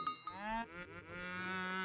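A cow moos in the Age of Empires III strategy game, a clear, close bovine call stretching over about two seconds with a short click before it, with no voices over it.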